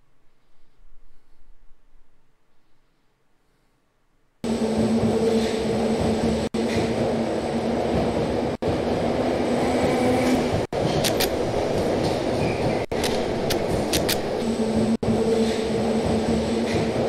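Loud, steady rumble of a subway train in a video game riding through an underground tunnel, starting abruptly after near silence and running continuously with brief dips and a persistent low hum.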